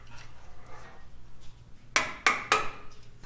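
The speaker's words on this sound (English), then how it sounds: "I'm just gonna cut the other side while I'm all set up to do it with my hammer and my knot chisel." Three sharp hammer blows strike a knot chisel cutting into wood, evenly spaced and fairly close, standing out clearly above a quiet low hum.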